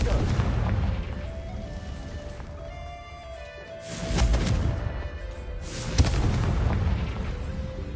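Confringo spell explosions in the video game Hogwarts Legacy, two heavy booming blasts a couple of seconds apart, loud and close, with a voice over the game sounds.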